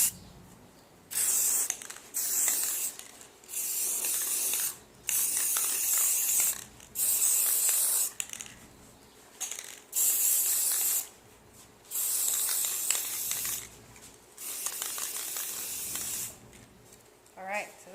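A spray paint can coats an old picture frame in repeated loud bursts of hissing, each lasting about one to two seconds with short pauses between, close and dominant, with faint handling noise in the gaps.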